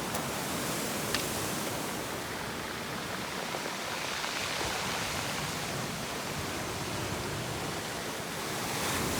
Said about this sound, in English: there's some nice waves here, man.